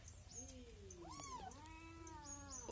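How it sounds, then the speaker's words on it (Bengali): Several cats meow loudly and insistently at a simple village home in the Sundarbans, with long, rising and falling overlapping calls close by and no talking. "শুধু ম্যাও ম্যাও করে"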